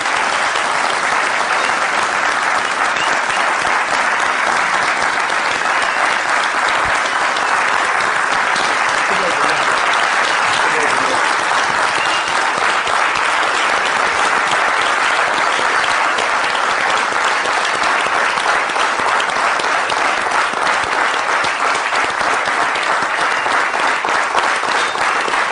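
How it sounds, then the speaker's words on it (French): Sustained loud applause from a large crowd, a dense unbroken roar of clapping lasting the whole stretch, with voices mixed in. "la minute de silence se transforme en minute d'applaudissement pour"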